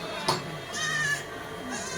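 Kathiawari goats and sheep at a livestock sale bleat in a few short calls over steady background noise, one sharp cry near the start and a longer wavering bleat in the middle.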